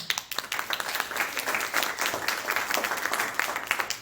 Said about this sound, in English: how about a round of applause for the Affordable Care Act?